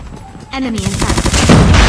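Type 25 assault rifle firing in a Thai-played mobile shooter game, rapid bursts of loud gunfire starting after a quieter half-second and continuing dense to the end, with a voice talking underneath.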